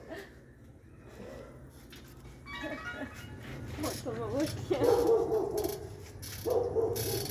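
Dogs bark on a TV documentary playing in a room: a few sharp barks and yips rise in the second half, fairly faint, mixed with people talking nearby.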